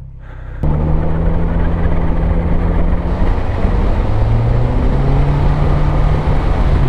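A Boom Trikes Mustang trike with a 110 hp engine runs loudly and close, starting with a sharp onset, then holding a steady rumbling drone whose pitch shifts as the engine is revved.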